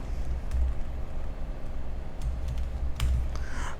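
Keys clack on a computer keyboard in irregular bursts, close and clear, with a few sharper louder strikes over a low steady background hum.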